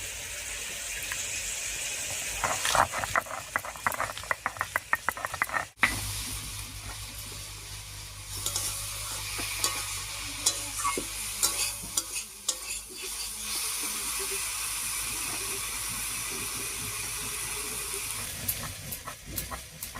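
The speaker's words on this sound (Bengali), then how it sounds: "তবে এক কোয়া রসুন আর একটা লঙ্কা আমি পরে দেবো রান্নায়, আর বাকিগুলো বেটে নিচ্ছি" Garlic cloves and green chillies being ground into a coarse paste for a dried fish curry, heard as rhythmic scraping strokes at first, then a steady rough grinding that continues for the rest of the clip.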